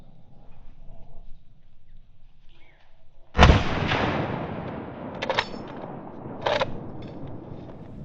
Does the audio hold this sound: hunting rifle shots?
yes